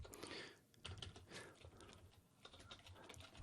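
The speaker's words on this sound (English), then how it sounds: "here's where I'm going to start typing." Rapid typing on a computer keyboard, a steady stream of soft, close key clicks and taps with no voice over them, quiet overall.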